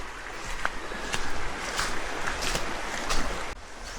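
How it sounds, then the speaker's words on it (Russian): Small, gentle sea waves lapping on a shore near volcanic terrain, a soft continuous wash with periodic gentle surges and light breeze, no voices. "Волны маленькие. Все тихо и спокойно."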